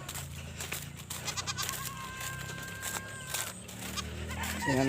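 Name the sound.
goats bleating in pen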